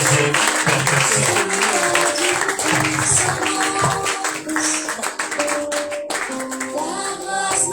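A church congregation at a Purim service claps and cheers, with rhythmic clapping mixed with voices and loud music or singing over the top, energetic and continuous.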